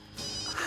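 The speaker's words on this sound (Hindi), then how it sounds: "करण तुम्हारा फोन कहाँ है? बज रहा है वो।" A mobile phone rings indoors in a short burst of electronic ringtone, faint and brief, with no speech over it.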